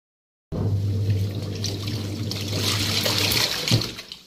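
Water sloshing and splashing steadily while clothes are washed at home, with a low machine-like hum underneath and a brief louder splash near the end; no one speaks.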